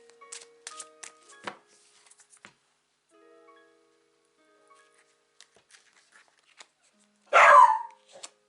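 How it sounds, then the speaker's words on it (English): A dog barks indoors during a quiet tarot reading: a few scattered short yips early on, then one loud, close, sharp bark burst near the end amid soft rustling. "Sorry about the dog, he barks at everything."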